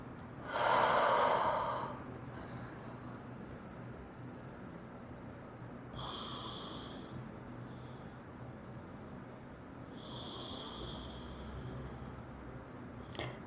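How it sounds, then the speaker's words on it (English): During a quiet yoga flow, slow, deep breaths come in three soft, airy waves about four seconds apart, with near-silence between them. "Remember to breathe."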